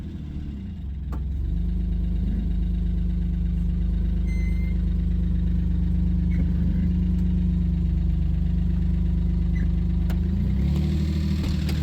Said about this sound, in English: that motor's noisy, isn't it?